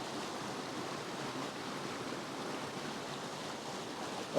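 Water from a cascade pours over rocks in a steady, even rush of noise with no breaks. The sound stays moderately close and continuous throughout.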